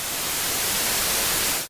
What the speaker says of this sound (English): or even white noise.